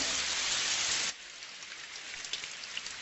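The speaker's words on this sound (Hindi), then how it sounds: "अरे बारिश।" Rain falling in a Hindi-dubbed Doraemon cartoon, a dense loud hiss that suddenly drops after about a second to a softer steady patter with scattered drops.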